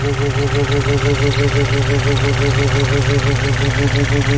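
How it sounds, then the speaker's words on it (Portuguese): A supercharged Chevrolet Chevette engine idles slow and lumpy with a steady, loping pulse and a whining undertone, loud and close throughout. "O motor tá lento assim porque ele tá fazendo força para girar o blower."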